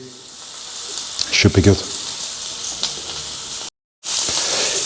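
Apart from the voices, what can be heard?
Italian sausage frying in a pan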